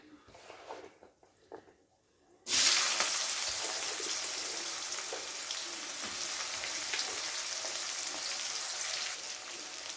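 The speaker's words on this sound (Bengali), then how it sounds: "পেঁয়াজ কুচিটা দিয়ে পেঁয়াজ কুচিটাকে খুব ভালো করে হালকা করে ভেজে নেব প্রথমে।" Chopped onion hits hot spiced oil for a Bengali fish curry, bursting into a loud, steady sizzle after a quiet start of stirring, and frying on evenly close up to the end.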